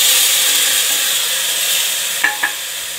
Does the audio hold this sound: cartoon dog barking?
no